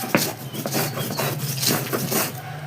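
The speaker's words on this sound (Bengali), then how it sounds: "তিনটে লঙ্কা নিয়ে নিয়েছি, আর এবার নুন নিয়ে নিলাম। এবার একসাথে বেটে নিচ্ছি।" Three chillies and salt are ground together on a grinding stone, giving a steady, close rasping scrape of stone over stone in repeated back-and-forth strokes.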